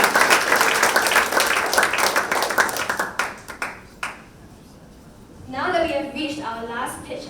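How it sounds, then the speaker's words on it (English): At a startup demo day event, the audience claps for a team, a dense burst of many hands that thins into scattered claps and stops, after which a person begins speaking alone. "Let's give them a round of applause."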